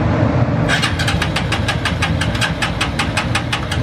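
A Honda CG 150 motorcycle engine built up to 220cc with Falcon 400 fuel injection cranks over in a rapid, even starter rhythm, loud and close, alone without speech.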